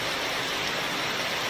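Steady rain falling during a trek in Dzükou Valley, Nagaland, a dense, even hiss of drops with no breaks, moderately loud and close, no voices.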